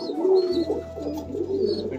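High-flying pigeons at a seller's loft, green pigeons among them, coo in soft, repeated low throaty calls over a steady low hum, fairly close and continuous.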